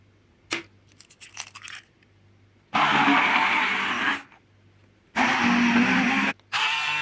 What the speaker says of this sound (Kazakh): творогқа қаймақ және қант пен жұмыртқаны қосып,